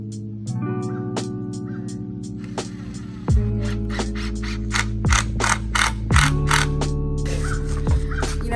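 Plywood cabinet pieces being screwed together during a bus conversion: a whirring power driver runs in short bursts with ratcheting and clicking, close and fairly loud, with no talking.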